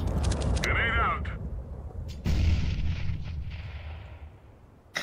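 A grenade detonates in a CS:GO match, a loud booming blast followed by a rumbling, fading tail, with sharp gunfire-like bursts nearby and a voice talking over the action.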